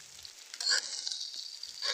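Chopped onion and green chilies dropped into a pan for frying, a short burst of sizzle that swells and then holds as a moderate hiss, with no talking.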